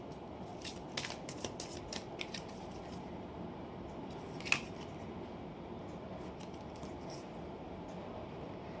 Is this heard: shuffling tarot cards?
yes